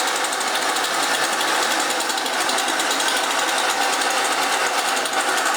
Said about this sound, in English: Now both treads are turning opposite each other, so that's a real tight turn.